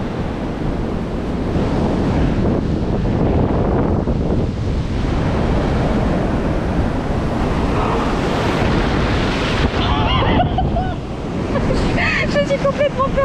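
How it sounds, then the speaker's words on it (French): Pacific Ocean waves break and wash continuously on a Coromandel beach in New Zealand, a loud, steady roar with wind buffeting the microphone and a few brief voices near the end. "C'est la première fois que je mets les pieds dans l'océan Pacifique."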